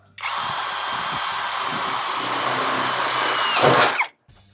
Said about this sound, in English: I'm just going to drill.